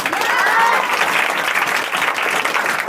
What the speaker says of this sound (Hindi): तो एक बार गुरु के लिए ताली बजना चाहिए